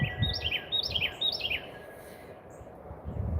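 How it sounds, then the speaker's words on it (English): A bird outdoors in the morning sings three quick, rising chirping phrases, close and clear, over low background rustle. "Yes, the birds agree."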